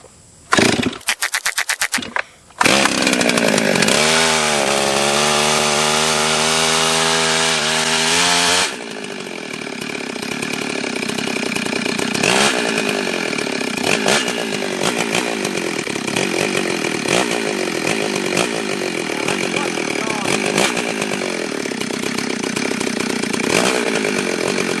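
A Stihl 036 MS360 chainsaw, a barn find left sitting overnight, is pulled and fires, revs to a loud, high whine, then drops to a rougher idle with repeated revving surges close up.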